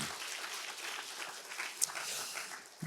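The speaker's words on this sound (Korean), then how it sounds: "우리 축복과 사랑의 박수 한번 해주십시오." A church congregation applauds during a worship service, a brief steady wash of many hands clapping at moderate volume.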